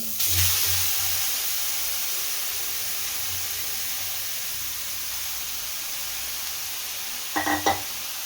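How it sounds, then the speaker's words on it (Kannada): Carrots for carrot halwa fry in a pan with a steady broad hiss that carries through, plus a low rumble and a brief burst of clattering stirring near the end. "ನಂತರ ನಾನಿಲ್ಲಿ ಕ್ಯಾರೆಟ್ ತೊಗೊಂಡಿದ್ನಲ್ಲ ಅದನ್ನು ಹಾಕೊಳ್ತೀನಿ ಅದೇ ಪ್ಯಾನ್ಗೆ"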